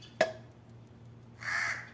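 Two harsh crow caws, one short and sharp, then a longer drawn-out call, against a quiet low hum, as the crow eyes pigeons.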